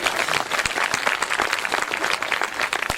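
An audience at a poetry stage show in Khariar Road, Odisha claps in a sustained, dense burst of applause, loud and close, with no talk.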